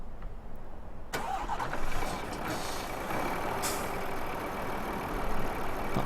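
A truck engine in Farming Simulator 15 cranks and fires up abruptly after a quiet start, then settles into a loud, steady idle with a brief hiss like an air brake release partway through.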